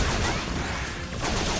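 Dense, continuous volley of gunfire from the video game Mighty No. 9, loud and sustained throughout with crashing, crackling bursts and no pauses.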